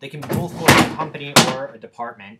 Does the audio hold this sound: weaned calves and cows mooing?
no